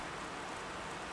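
Rain pours onto the broad, dark surface of a river, making a soft, even, continuous hiss with no distinct splashes, heard alone.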